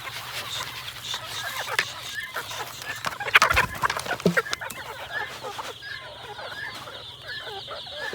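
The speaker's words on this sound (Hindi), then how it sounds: "और सारी की सारी मुर्गा बरादरी भी आ गई" A flock of chickens and roosters gathers for feeding, clucking and squawking busily at close range, with a louder burst of calls partway through and steady background chatter throughout.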